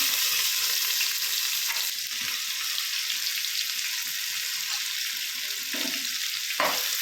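Steady, crackling sizzle of onions frying in hot oil with dal for coconut milk mutton biryani, close and continuous, with occasional stirring scrapes and no talking.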